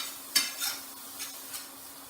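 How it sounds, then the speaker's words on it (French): Tofu roasting in a pan, a faint sizzle with a few soft scrapes and stirs of a utensil against the pan at uneven intervals. "On fait rôtir jusqu'à temps qu'il y ait une belle coloration."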